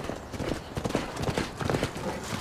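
Hooves of a thoroughbred horse running past, a quick uneven clip-clop drumming on the ground at moderate distance, steady for a couple of seconds with faint voices underneath.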